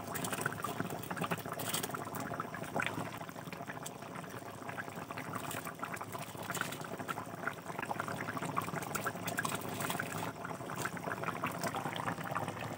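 Soaked rice is added to a pot of boiling water with bay leaf for home-style chicken biryani, giving a steady bubbling and watery pouring sound close by, with no talking.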